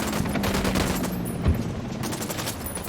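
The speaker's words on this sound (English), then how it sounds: "Opening fire." Steady gunfire rattles in Ghost Recon, a sustained stream of automatic bursts at moderate loudness with one heavier thump midway and no talking over it.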